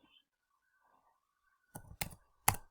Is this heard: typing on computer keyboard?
yes